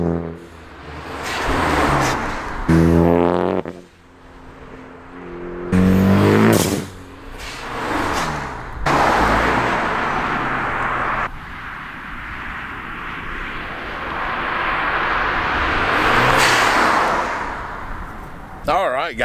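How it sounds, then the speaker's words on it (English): Honda Civic Sport fitted with a Torque Solutions blow-off valve, heard in several loud drive-bys with engine revs rising and fading as the car passes, interrupted by abrupt cuts, with a voice speaking over parts. "I'm gonna try to do some drive-bys and let off and see if you can hear the blow-off valve during like a drive-by."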